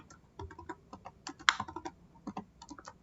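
Fingers tap on a computer keyboard in quick irregular bursts of close clicks, with one sharper, louder keystroke standing out midway, and no talk.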